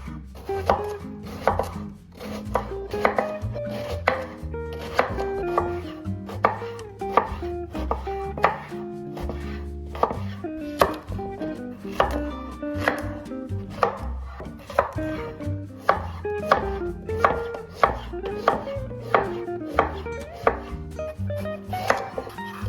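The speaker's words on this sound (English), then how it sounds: "Meanwhile, we chop all the vegetables." A knife chops vegetables on a cutting board for a chicken meal-prep dish, a loud, close, steady run of rapid rhythmic thuds that continues throughout with no talking.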